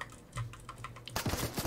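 A computer keyboard's space bar is tapped repeatedly, giving faint, quick clicks at first, then a louder cluster of taps near the end, close and alone without talk.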